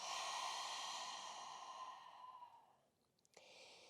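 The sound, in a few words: exhale breath during yoga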